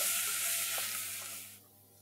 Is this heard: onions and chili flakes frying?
yes